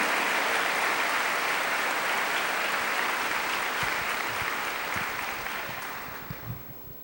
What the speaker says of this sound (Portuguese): Aplaudir essa palavra, esse roteiro de cura.